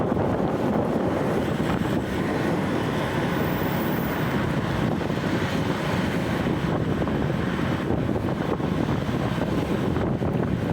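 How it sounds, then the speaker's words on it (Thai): Strong wind blows steadily outdoors on a Vientiane morning, a loud, continuous rushing roar with gusty buffeting on the microphone and no talk. "โอ้ลมแรงครับสงสัยฝนจะมานะนย"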